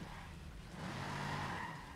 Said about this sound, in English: the car sounds in the game are great.